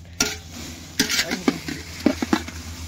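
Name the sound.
chillies being roasted on the stove for masala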